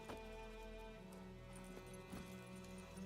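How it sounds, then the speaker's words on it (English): Roach the horse trotting in The Witcher 3, a steady clip-clop of hooves running continuously over a bed of game music and ambience, moderately loud with no talk. "Lovely horsey."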